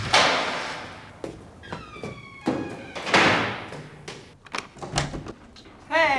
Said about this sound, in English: Please, can I just open the door?